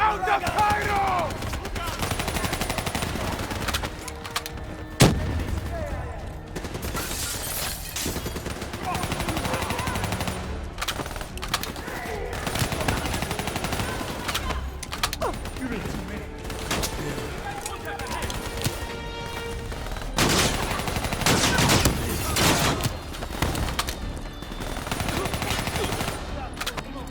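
Dense gunfire in Call of Duty Black Ops 3 street combat in Cairo, with repeated bursts of automatic and single shots across the clip, loud and close, with shouted voices mixed in.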